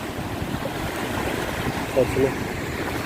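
Water crashes steadily at Hazra waterfall, a broad rushing roar heard up close, with a voice speaking briefly over it.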